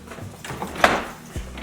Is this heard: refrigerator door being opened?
yes